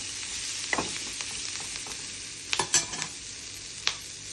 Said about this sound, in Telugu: వెల్లుల్లి వేసేయాలి. అవి కూడా వేగాలి.